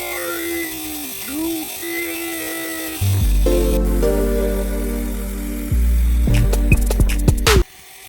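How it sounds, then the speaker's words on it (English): Two power drills running together, a steady loud motor whine that starts abruptly partway through, steps up louder as the second kicks in, then cuts off near the end. "Oh my god. Dual drills."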